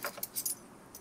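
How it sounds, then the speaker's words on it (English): A set of police car keys in The Quarry jangles quietly and close by in a few quick bright metallic bursts, then goes still. "Police car keys."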